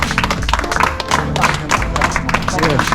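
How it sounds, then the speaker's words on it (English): An audience claps for guests at a lively gathering, dense rapid applause filling the space up close while people talk loudly over it. "we'll give the guests a round of applause again"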